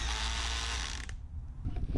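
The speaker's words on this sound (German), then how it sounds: "Mit einer Bohrmaschine kann man die Schraube eindrehen, am besten geht es mit einem Drehschlagschrauber." Impact driver sinking screws into wood while building a firewood shelter, a steady loud mechanical whirr for about a second, then stopping, followed by softer clattering handling noises nearby.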